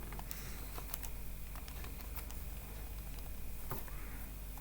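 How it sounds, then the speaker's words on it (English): Fingers tapping numbers into a calculator keypad during a maths calculation, a steady patter of small, quiet plastic clicks at close range over a faint background hum. "So I'll just be lazy and type this in on the calculator."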